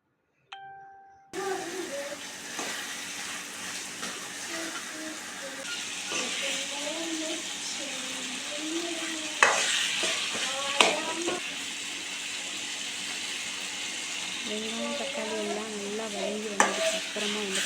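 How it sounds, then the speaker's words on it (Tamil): Onion and tomato sautéing in a pan with salt for mutton gravy, with a steady close sizzle and occasional spoon scrapes and knocks while a person talks over much of it. "இந்த வெங்காயம் தக்காளி வந்து சீக்கிரமாக வதங்கி வரும்"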